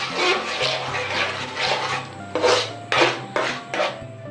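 A spoon scrapes and stirs bread halwa cooking in ghee in a pan, making repeated rasping strokes in a steady rhythm, close and moderately loud.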